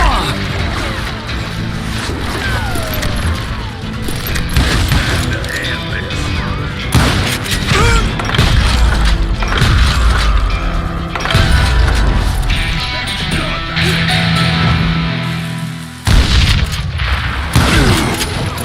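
Dynamite blasts in the western shooter Call of Juarez: Gunslinger boom and crash through a busy, constant mix of game noise, with repeated heavy impacts across the span.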